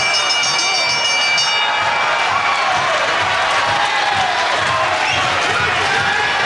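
A large indoor crowd at a 1979 professional wrestling match roars and cheers continuously at high volume, with a commentator's voice faintly mixed into the din.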